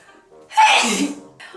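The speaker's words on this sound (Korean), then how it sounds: "옷을 갈아입다 보니까 재채기가 나네요" A woman sneezes once, loud and close, after a short intake of breath while changing clothes in a dusty room, and a brief sigh follows.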